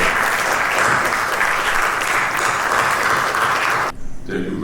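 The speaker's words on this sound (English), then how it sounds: "The clapping should go on for him." An audience at a hotel industry awards ceremony applauds, dense steady clapping filling the room for about four seconds before cutting off abruptly, leaving a faint murmur.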